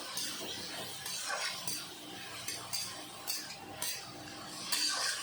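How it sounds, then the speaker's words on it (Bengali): Prawns coated in turmeric and salt are stirred in a hot pan, a spoon scraping and clinking against the metal in repeated close strokes over a faint sizzle. "এখন আমি চিংড়ি মাছগুলো নেড়ে চেড়ে ভেজে নেব।"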